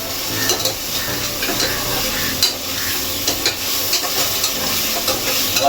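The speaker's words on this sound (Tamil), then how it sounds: "இஞ்சி பூண்டு பேஸ்ட் ஆட் பண்ண உடனே நல்லா வதக்கணும்" Ginger garlic paste sautéing in a pan for chicken biryani, a steady loud sizzle with a scraping stir and soft clicks of a spoon against the pan throughout.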